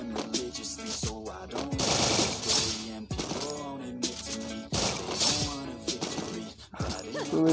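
Rapid bursts of MP40 submachine gun fire in the Free Fire battle royale game, loud and close with short gaps between volleys, while a player talks over the shooting.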